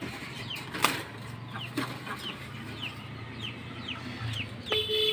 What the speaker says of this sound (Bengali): দেখেন এই যে কালদম কবুতরটা আমি একটু ধরে দেখাই।